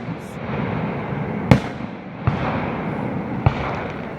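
Distant fireworks from a school below a mountain in Loniconing, Maryland thud in three separate bursts over a steady outdoor rumble, each report sharp and echoing.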